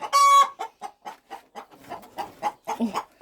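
Hens and chicks clucking in a backyard flock, a loud squawk first, then a quick run of short rhythmic clucks and soft peeps close by, with no talking.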